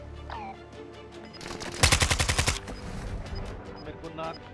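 Gunfire in the video game Warzone 2 rings out as a loud, rapid burst of about a dozen shots, with scattered game effects and a voice speaking around it.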